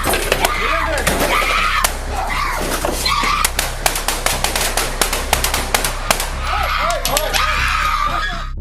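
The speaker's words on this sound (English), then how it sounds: "Officers immediately returned fire." Gunfire cracks out in a police shootout with an armed man, a rapid series of loud sharp shots in irregular bursts over constant noisy background and shouting voices.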